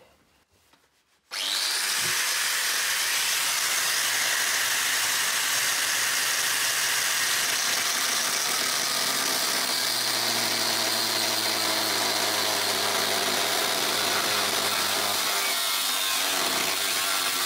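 A GRAFF diamond disc on an angle grinder cuts into a steel gas cylinder, starting abruptly after a moment of quiet and then holding a loud, continuous high-pitched grinding whine with no talking.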